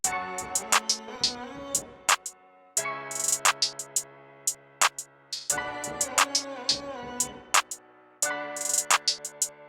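A bouncy, syncopated hi-hat pattern programmed in FL Studio, with quick ticks and rolls riding over a clap and a melodic sample in a beat, playing loud and steady with no voice.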